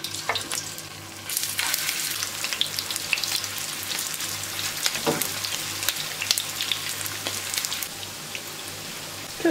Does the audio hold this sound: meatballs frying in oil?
yes